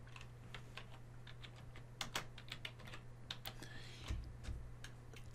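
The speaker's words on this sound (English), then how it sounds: "Now I'm going to go ahead and type in curb ramp." Typing on a computer keyboard, a steady run of light, quick key clicks with a few louder taps, close and alone over a low hum.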